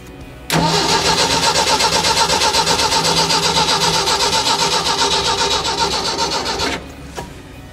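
A 1990s tracked auger machine, parked for over ten years, catches and starts abruptly, then runs at a loud, steady idle for several seconds before cutting off.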